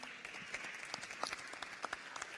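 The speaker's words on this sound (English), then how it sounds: "A big applause for them, please." Applause from a conference audience at a world assembly of local and regional governments, quiet scattered clapping from a crowd, fairly distant, lasting a couple of seconds.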